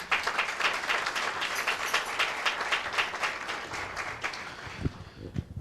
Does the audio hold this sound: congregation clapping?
yes